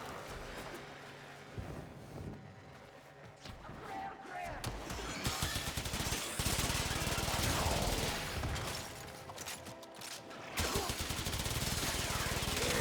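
Aksomati Prime guns fired at Acolytes in Warframe produce dense, rapid streams of crackling shots that build into sustained bursts over other game effects, with a voice talking in between.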